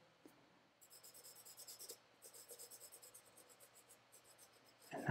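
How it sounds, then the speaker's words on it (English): Graphite pencil shading across paper with the side of the lead while drawing a skull, a steady rhythmic scratching in repeated strokes, close and fairly quiet, with a brief louder scrape at the end. "Still using the side of the pencil."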